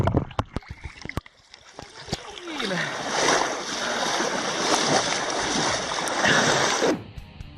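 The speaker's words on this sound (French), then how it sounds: "La rivière agitée." Turbulent river water rushes and splashes around a kayak on the Lynn river in Devon, a steady loud roar of rapids that swells after a few sharp knocks at the start and cuts off near the end.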